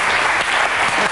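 Dense, loud studio audience applause welcoming a guest onto a French television game show, continuous clapping throughout the short stretch.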